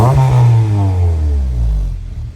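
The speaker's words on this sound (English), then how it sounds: "Definitely a good sound, and that's a 3-inch on a K24." A Honda K24 engine revs through a 3-inch exhaust, a loud, close, deep drone that swells and then eases off as the revs drop, with no speech over it.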